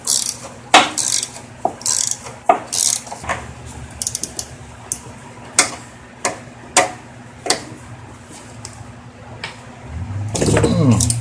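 A ratchet wrench with a 10mm socket backs bolts out of a Craftsman riding mower, giving rapid bursts of clicking pawl ticks in a steady rhythm, close and clear, ending in a louder clatter.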